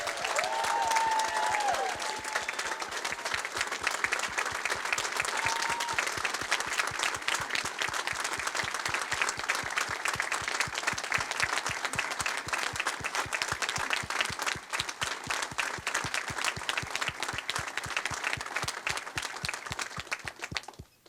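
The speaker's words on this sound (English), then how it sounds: "Let's give them one last round of applause." Sustained applause from an audience honoring Honor Flight Rochester veterans at the close of Mission 70; dense, steady clapping holds at full strength for about twenty seconds before stopping abruptly.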